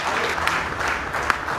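Audience applause at the CREDAI Gujarat Youthcon 2026 event, a steady dense wash of clapping filling the hall throughout without pause, loud and even with no voices on top.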